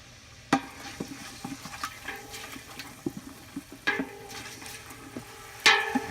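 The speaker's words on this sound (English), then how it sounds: "turn the flame on high and start infusing the garlic with the oil." Garlic in oil on a high flame in a pan while making marinara sauce: a soft, steady sizzle with occasional clinks and stirring scrapes, close by, with no talking.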